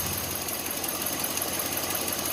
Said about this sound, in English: My engine is running fairly smooth for what it is.